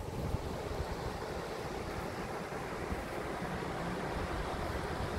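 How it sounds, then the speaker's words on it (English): Remnant rapids of a river in Ontario rush steadily with broadband churning water and some wind buffeting, continuous and fairly loud, with no voices. "This is what remained of the original river and rapid."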